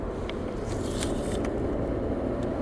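A 2022 Hyundai Elantra N with a DCT gearbox rolls through turns in eco mode, giving a steady, low road and engine rumble with faint tyre and cabin noises and no sharp changes.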